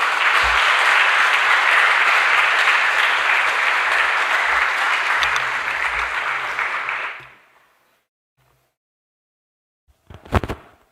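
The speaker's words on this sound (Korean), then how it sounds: "박수로 한번 모시겠습니다." A church congregation applauds to welcome a guest speaker, a full, steady round of clapping that dies away after about seven seconds, followed by silence and then a short sound near the end.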